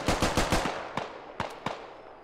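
Gunfire in the Squad military shooter: a rapid close burst of shots followed by several separate cracks that ring out and decay, with no talk over it.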